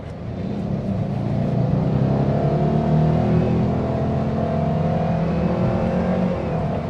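A 2021 Toyota Avanza engine is accelerating in manual S mode in second gear, with a loud, steady, close drone that climbs gently through the revs and no talk over it.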